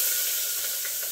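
Chopped onions dropped into hot oil for the tempering of a Malvani okra kadhi: a bright, steady hiss and sizzle, close and even throughout, with no voices.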